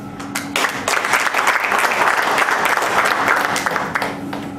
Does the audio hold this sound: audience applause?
yes